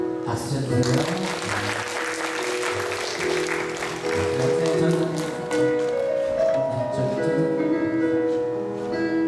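A church congregation applauds during a Sunday service, the scattered clapping rising and thinning out over several seconds while a voice speaks and tonal sounds carry on over the top.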